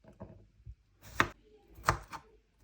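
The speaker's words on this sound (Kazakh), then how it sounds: "Қазір қиярды, қызанақты және де колбасаны 4 бұрыштап турап шығамыз." Cucumber, tomato and sausage are cut on a board, a few soft, uneven knife chops landing close but quiet, with no voices.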